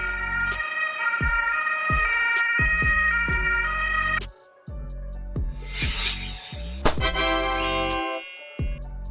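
A German ambulance siren, from a Mercedes-Benz Sprinter, Volkswagen Crafter or MAN TGE type vehicle, plays loud and close in a repeating two-tone pattern that breaks off partway, followed by shifting electronic tones and a brief rising wail.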